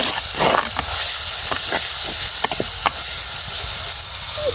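Small cumin seeds sizzle in hot oil in a pan, giving a loud, steady hiss with scattered crackles and pops close by.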